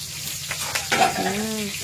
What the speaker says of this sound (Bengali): এই যে কাঁচা মরিচ এখন তেলের মাঝে ভাজা চলছে